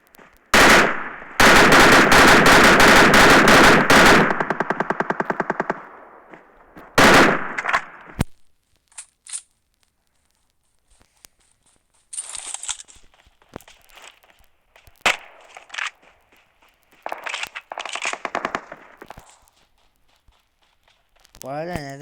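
Video game gunfire fired at random, a long rapid automatic burst followed by shorter bursts and scattered single shots, with a player talking in between and footstep-like clicks.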